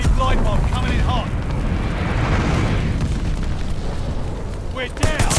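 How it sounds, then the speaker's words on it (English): Enemy glide bomb blast in the game Call of Duty: Vanguard: a sustained, rumbling explosion roar under short bursts of speech. "Heads up, enemy glide bomb coming in hot."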